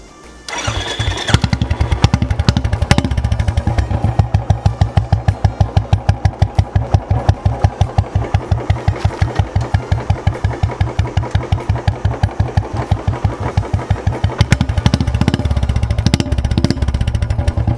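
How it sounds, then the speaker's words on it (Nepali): A Royal Enfield Classic 350 in Gunmetal Grey with a long Punjab silencer starts up, then thumps out a steady, loud, close single-cylinder beat with rhythmic exhaust pulses and brief revs near the end. "साइलेन्सर चाहिँ long Punjab one of the best silencer होइन त म साउन्ड सुनान्छु है अहिले"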